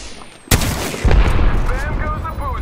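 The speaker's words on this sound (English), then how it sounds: "I'm taking shots. Reloading. Getting shot at." Weapon fire from the Apex Legends video game, with a sharp loud shot followed by a heavier burst and ringing sustained gunfire.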